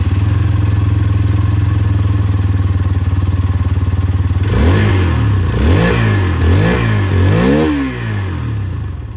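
A Hero Xtreme 160R 4V motorcycle idles with a steady thumping exhaust, then revs hard several times in quick bursts, each rising and falling close by.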